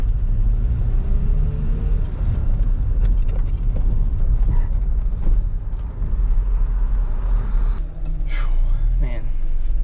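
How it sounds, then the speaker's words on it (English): Honda Civic EF (ED4) sedan with coilovers, rear disc brakes and manual transmission driving on a test drive after an alignment, a steady low engine and road rumble inside the cabin with faint rattles and a brief voice near the end. "taking it for a little test drive."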